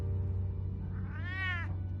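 A cat meows once in a video game, a single rising and falling cry over a steady low background hum.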